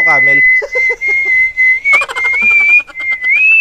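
A steady, loud, high whistle held almost continuously for several seconds, wavering slightly in pitch, with brief bursts of other sounds and voices around it.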